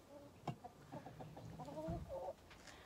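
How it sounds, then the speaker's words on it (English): Chickens cluck and murmur close by at an allotment, a quiet run of short clucks and soft calls with no talk over them. "These are my chickens."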